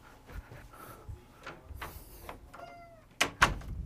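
A door is shut indoors, giving two sharp, fairly loud knocks close together near the end, after a stretch of quiet room noise and faint rustling.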